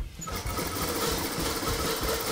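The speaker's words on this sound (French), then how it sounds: "On va coudre les manches à la machine maintenant" Old motor-driven sewing machine stitching the sleeves of a jockey silk, a rapid, continuous mechanical whirr and patter that runs steadily throughout at close range.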